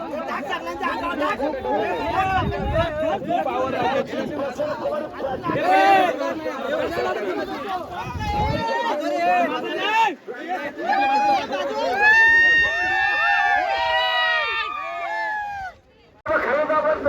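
A crowd at a bullock cart race cheers and chatters, a dense hubbub of shouting voices close by, with whistles and shrill calls rising toward the end.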